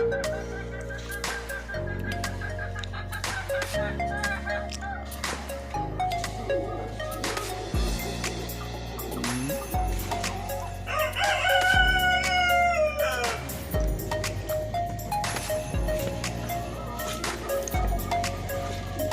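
Darag native chickens kept free-range cluck steadily while a rooster crows clearly partway through, over a continuous layer of background music that runs throughout.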